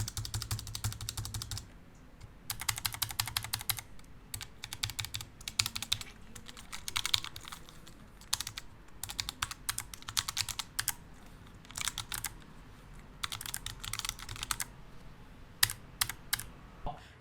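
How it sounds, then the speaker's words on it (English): Red linear switches on a Nuphy NuType F1 keyboard are typed on in bursts of quick, crisp keystrokes, with short pauses between runs, close and clear with no talking. "you'll be able to hear the keyboard just what it sounds like for my red switches"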